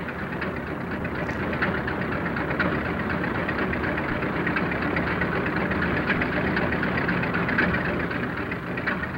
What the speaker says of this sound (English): This is Tijan's first close look at a diesel